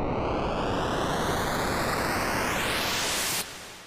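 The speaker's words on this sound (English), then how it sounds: "this sounds sort of like a bit crushed white noise" Dense, hissy, bit-crushed sample-and-hold white noise from a synth oscillator, steady and loud, its gritty tone sweeping upward before dropping to a softer hiss near the end.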